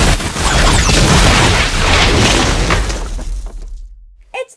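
A Nerf nuclear missile smashes into a LEGO fortress with a loud, close crash, as plastic bricks shatter and scatter in a long rattling burst that slowly fades.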